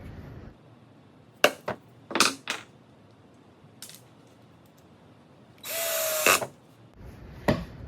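A power drill drives Phillips screws into the sides of cabinet drawers in short bursts, with one longer whirring run near the end, close and clear between clicks and quiet gaps.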